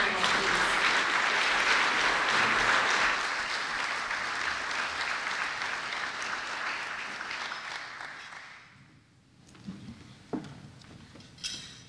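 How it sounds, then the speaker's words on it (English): Luncheon audience applauding a panel, loud sustained clapping that gradually thins out over several seconds before ending, followed by a few faint clinks of dishes and cutlery in the quiet room. "Can we have a round of applause for our panel, please?"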